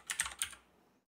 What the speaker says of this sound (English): We'll be typing here a domain name.